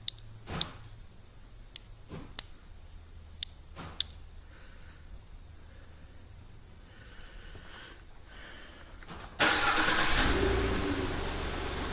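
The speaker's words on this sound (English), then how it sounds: "This will silently trigger the vehicle to remote start." A 2015-2019 Ford F150 fires up by remote start after a run of quiet key-fob clicks, the engine catching abruptly near the end and settling into a loud, close, steady rumble.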